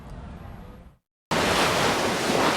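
Pacific Ocean surf washes onto the shore on an evening after a tsunami warning, a loud, broad roar of breaking waves with wind noise on the microphone, after a short silent cut.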